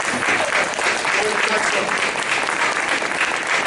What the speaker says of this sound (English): let's give a clap for the team